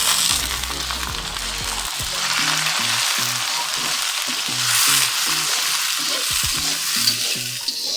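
Sliced tomatoes frying in a pan with browned onions, a steady close sizzle with stirring clatter throughout, for a fried cauliflower (gobhi) dish.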